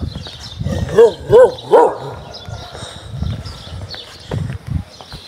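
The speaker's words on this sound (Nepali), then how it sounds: "कुकुरहरू यस्तो भुक्छन्" A dog barks three times in quick succession nearby on a street in Surkhet, Nepal, followed by quieter sounds and some talking.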